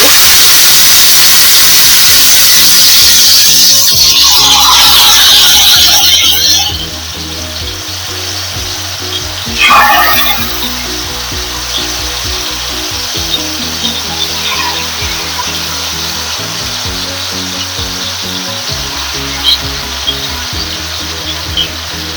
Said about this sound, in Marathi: तेल आता आपलं तापलंय, त्याच्यात मी पीस घालून घेते